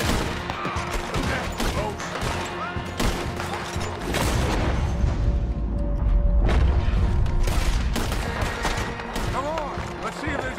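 Video game gunfire in Red Dead Redemption 2, with repeated sharp shots and bursts in a fusillade mixed with in-game voices and background music, fairly loud throughout.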